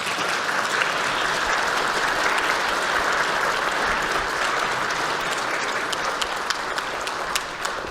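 Sustained, dense applause fills the National Assembly plenary chamber as lawmakers clap for the bereaved families of humidifier disinfectant victims, a steady wash of many hands at even loudness with no speech over it.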